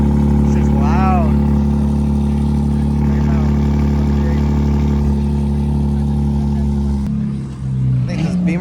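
Loud BMW engine idling and rumbling steadily at a BMW car meet, a deep continuous drone close by with people talking over it and a shift in tone near the end.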